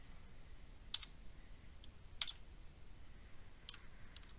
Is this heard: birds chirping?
no